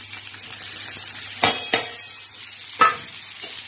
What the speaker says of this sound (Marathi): आता हे छान असे परतून घ्यायचे